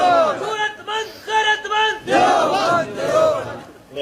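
A large crowd at a religious sermon chants slogans loudly in repeated, rhythmic bursts of many voices, filling the whole stretch.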